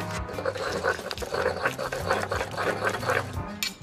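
Anchovies, capers and mustard being ground to a paste in a pestle and mortar: close, rhythmic scraping and grinding strokes repeating steadily.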